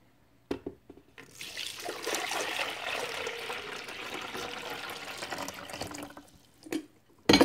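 Six cups of water pour into a Mr. Coffee coffee maker, a steady splashing trickle lasting several seconds, close and fairly quiet, with brief clunks before and after.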